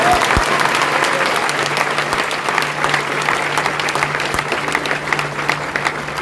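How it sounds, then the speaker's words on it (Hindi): A large congregation at a Christian convention in Navapur claps loudly and continuously, a thick sustained roar of applause with scattered sharper hand slaps throughout. "बड़ा दिल रख के जोरदार ताली बजा के।"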